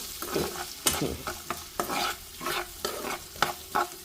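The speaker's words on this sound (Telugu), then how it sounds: "కొంచెం అంత కారం వేసుకొని మొత్తం కలుపుకోవాలి" A spatula stirs potato fried rice with chili powder in a hot pan, making about eight rhythmic scraping strokes over a continuous moderate sizzle.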